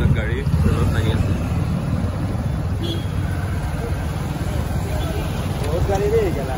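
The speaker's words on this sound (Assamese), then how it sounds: "বহুত গাড়ী দেই গেলা।" Cars and other vehicles pass along a street in Silonijan town, Karbi Anglong, making a steady, loud roadway rumble with some wind buffeting throughout.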